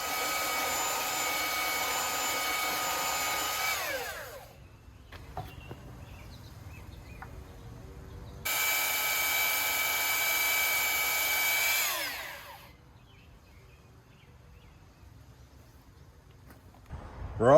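Power sander working a wooden cross, two loud high whirring bursts of several seconds each separated by quiet pauses, close up with no talking.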